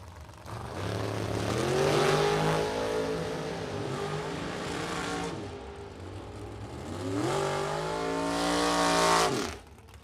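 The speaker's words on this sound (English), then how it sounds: "Close drag race." Drag race cars in a Super Pro or Top Sportsman class launch and roar down the strip in two long, loud, rising engine surges, each climbing in pitch as the cars accelerate away.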